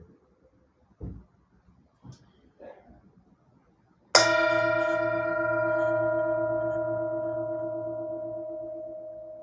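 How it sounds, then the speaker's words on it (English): A single bell is struck during a mindful Bible study session after a few faint rustles, giving one clear ringing strike whose bright tone sustains and slowly fades for several seconds. "I'm going to begin with the bell."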